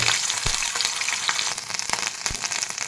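Ginger paste frying in lightly heated oil for shahi paneer, a steady close sizzle and spatter with a few sharp pops, no voices.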